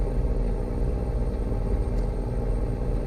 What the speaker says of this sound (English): I also seem to recall that this truck is incredibly loud